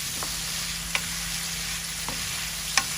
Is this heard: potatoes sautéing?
yes